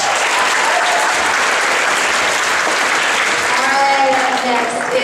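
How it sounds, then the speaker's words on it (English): Loud, sustained audience applause at a high school pageant, dense clapping from a large crowd filling the hall, with faint voices and cheers rising near the end. "Another round of applause."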